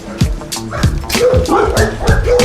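A rescued mother pit bull-type dog with her eight puppies gives repeated short high yips, whines and barks close by, in quick bursts over a couple of seconds, with some human voice mixed in.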